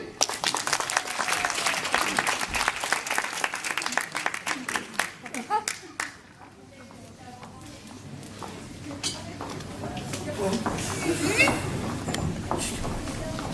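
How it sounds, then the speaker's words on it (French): A theatre audience breaks into dense clapping that thins after about six seconds, leaving scattered claps and room noise, with a voice talking over it. "On applaudit."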